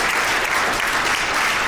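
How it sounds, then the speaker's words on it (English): A live audience applauds steadily, close and loud. The clapping is dense and sustained throughout the short burst, with no break. "Hey, applause. Applause."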